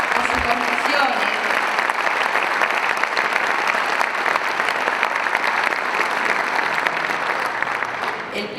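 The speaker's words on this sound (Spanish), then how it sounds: "pido un aplauso muy grande por su enorme compromiso, por sus convicciones." A large audience at a political event on social policy gives sustained, dense applause, an even roar of many hands clapping that holds for over eight seconds before easing slightly at the end.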